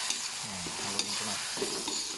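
Egg and vegetables stirred in a frying pan, a steady sizzle under scraping utensil strokes that come in a few quick passes, close and moderately loud with no talking.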